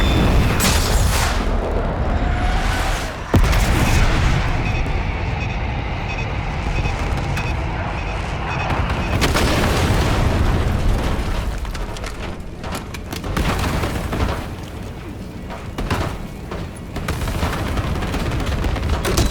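Airstrike bombs detonating in Call of Duty: Black Ops 6, a run of loud, heavy booms and rumbling blasts layered with battle noise, one sharp crack standing out early, continuing dense and close throughout.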